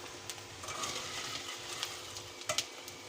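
Golden fried edible gum (gond) tipped from a hot oil pot into another pot during halwa making, giving a continuous soft sizzle with light scraping and a few sharp clinks near the end.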